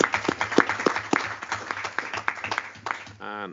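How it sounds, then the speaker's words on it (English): Scattered applause in a meeting room, quick fairly quiet claps blended with murmuring voices, and a single voice rising at the end. "I think a round of applause in the room."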